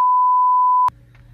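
A work alarm gives one steady electronic beep, clear and close, lasting just under a second before it cuts off abruptly into low background hum.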